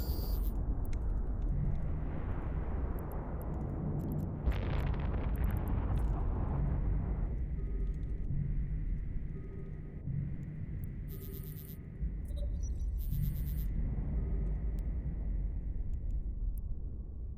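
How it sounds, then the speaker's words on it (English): Smart bomb explosions in EVE Online roll out as a low rumbling blast with a deep sustained roar, followed by softer pulsing hums and faint electronic tones in a spacecraft fight. "Oh, smart bombs."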